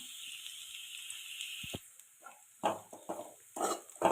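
Pirandai (adamant creeper) frying in a pan, with a steady hiss at first, then crackling, spitting sizzles in short bursts as the pieces are stirred, close and fairly quiet.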